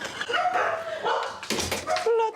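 Several dogs bark and yip close by in a house, short excited bursts overlapping one another, with some whimpering mixed in and faint voices underneath.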